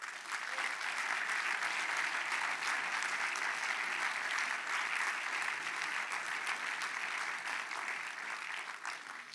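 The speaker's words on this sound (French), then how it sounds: "on peut applaudir Vincent Hadette" Sustained audience applause fills the hall at a festival opening ceremony, a dense steady wash of clapping from a large crowd that holds for the whole stretch, tapering slightly at the end.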